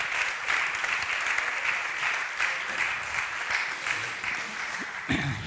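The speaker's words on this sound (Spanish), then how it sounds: "vamos a darles un aplauso a Javi y a José Luis" An audience at a science outreach talk applauds steadily, moderately loud continuous clapping throughout with a brief voice near the end.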